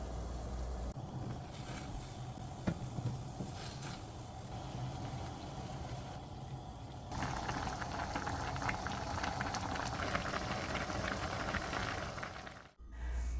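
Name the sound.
water with ramen soup base and crab boiling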